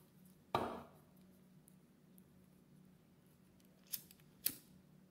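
Quiet scissors snip through ribbon while making a small bow, with one firmer cut near the start and two sharp, brief snips close together near the end in a still room.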